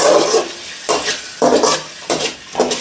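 Chopped onions frying in a pan for street-style pav bhaji, with close sizzling and repeated bursts of stirring and scraping against the pan in an uneven rhythm, no voices.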